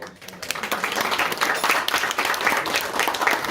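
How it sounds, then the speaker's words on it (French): An audience at a literary conference in Marseille's Madeleine hall gives steady, moderately loud applause, many hands clapping continuously throughout with no voices standing out. "je souhaiterais qu'on applaudisse et qu'on remercie la Madeleine de Marseille pour son accueil"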